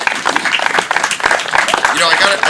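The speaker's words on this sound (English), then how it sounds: "So hats off and a big round of applause for all the veterans and all the conflicts in our wonderful country." Crowd applauding veterans at an outdoor patriotic festival opening ceremony, lively scattered clapping with cheers and voices mixed in.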